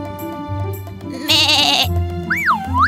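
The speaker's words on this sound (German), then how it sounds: "Hier wohnt das Schaf." A cartoon sheep lets out a loud, wavering bleat over light background music, followed by a springy, sliding whistle-like effect.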